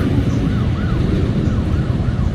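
An ambulance siren wailing in quick repeated up-and-down sweeps, heard over loud rumbling road traffic nearby.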